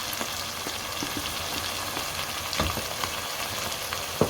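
Tomato paste being stirred into potatoes and eggs frying in a pan, a dense continuous sizzle with soft scraping strokes and a few sharper clicks, close and steady, no voices.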